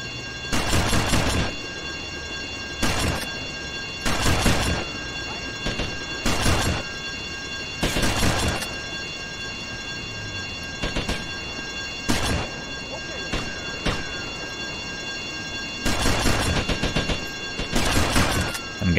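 Shotgun blasts in the Vice City video game, loud repeated booming bursts spaced a second or two apart over a steady background hum, with voices talking at times.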